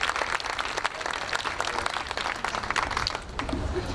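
Sustained audience applause at an evening award tribute event in downtown Detroit, steady dense clapping from a crowd filling the room for about four seconds, easing slightly near the end.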